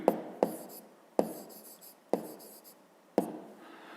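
Pen strokes scratching on paper while working a physics exercise, five distinct bursts each starting with a sharp tap and trailing into a soft scratch, close and quiet, with no talking.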